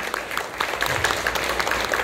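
Congregation applauding during an evangelical church healing service, a dense, continuous patter of many hands clapping from a moderately sized crowd, steady and fairly loud throughout with no speech over it.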